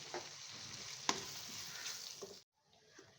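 Rice and ingredients frying in a pot with a tablespoon of pink salt while being stirred for green pulao, a steady close sizzle with a sharp clink partway through, ending abruptly in near silence.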